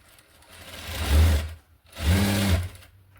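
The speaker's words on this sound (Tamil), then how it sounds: "இதா இது அழகாக ஒரு கால் இன்ச்சில் வந்து ஸ்டிச் ஸ்டிச்சஸ் போட்டு எடுத்துக்கோங்க" A sewing machine stitches a blouse band in two short, close bursts of whirring, each about half a second long, separated by a brief pause, with no talk.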